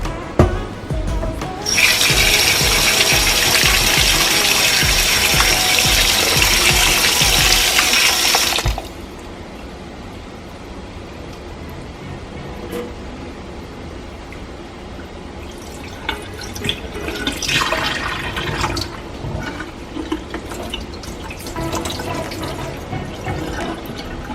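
Running water pours steadily from a tap for several seconds, then stops, leaving quieter splashing, dripping and handling of canned ackee being rinsed in the water.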